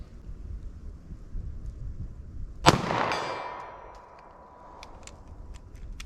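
A single sharp, loud .380 ACP pistol shot firing a hard cast round at a target outdoors, followed by a long rumbling echo that fades over a few seconds, then a few faint clicks.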